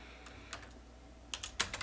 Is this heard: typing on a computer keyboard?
yes